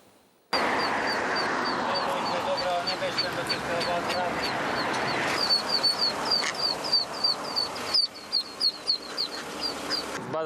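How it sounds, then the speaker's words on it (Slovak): Six ducklings trapped in a storm drain beside a busy four-lane road peep repeatedly in high rapid calls, with a mother duck's quacks and traffic noise underneath, growing more insistent toward the end. "6 malých kačičiek uviazlo v kanáli pri rušnej štvorprúdovke."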